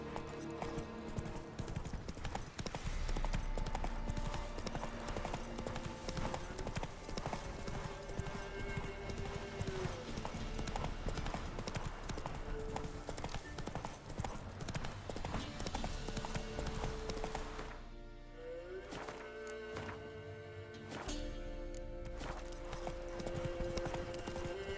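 Horse hooves clip-clop steadily and close by in The Witcher 3: Wild Hunt, a continuous trotting rhythm over a busy game soundscape that thins out briefly near the end.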